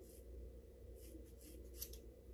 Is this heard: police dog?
no